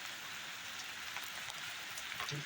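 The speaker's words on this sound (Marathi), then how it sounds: "पाऊस पण आलाय, भरपूर पाऊस पण खूप आहे." Dense, steady heavy rain pours down, a constant hiss with occasional louder drops, no voices.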